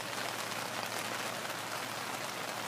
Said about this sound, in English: It went from that beautiful sunny day to raining.